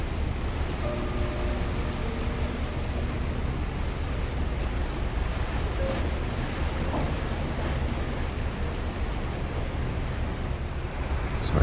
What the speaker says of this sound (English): our wake is about to hit that iceberg